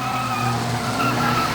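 Stock cars race and skid on an oval track, with a continuous loud roar of engines and squealing tires sliding across the surface.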